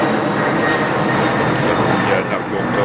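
An airplane passes overhead during gardening outdoors, a steady loud broadband engine roar that fills the whole stretch with a faint hiss on top.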